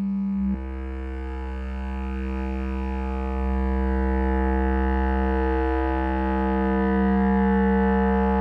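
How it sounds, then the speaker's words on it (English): A steady, pure sine-wave tone on the note G holds unwavering for several seconds, sitting over a low, rich droning sound. "I'll just play a quick sine wave reference of the G"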